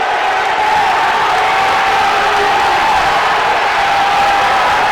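A high school varsity boys basketball crowd in a gym reacts with sustained loud noise and cheering to a referee's warning on the Bryant coach, a steady roar filling the whole clip.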